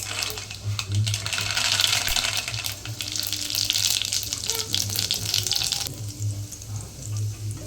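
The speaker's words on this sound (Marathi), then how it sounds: "तेल तापलेले आहे, त्यात मी आता फोडणी देऊन घेते." Tempering spices such as cumin crackle in hot oil for misal, a sustained bright sizzle that runs loud for about six seconds before easing off, heard alone without talk.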